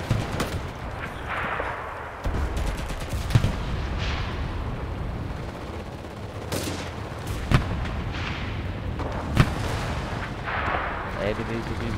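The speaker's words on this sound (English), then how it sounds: "I don't see any enemies, but I hear shooting." Rapid gunfire and heavier blasts from the WWII shooter video game Enlisted, with sharp cracks standing out every few seconds above a constant rumbling din of distant shooting.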